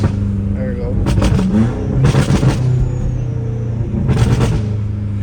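A BMW M5 Competition with a titanium catback exhaust revs hard in repeated sharp bursts over a steady idling rumble, three loud surges spaced a second or two apart, close by.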